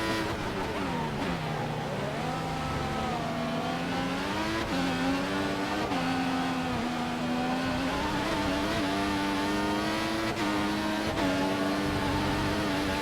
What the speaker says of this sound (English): I think Magnussen's holding up a lot of people, including the Ferraris and the Williams.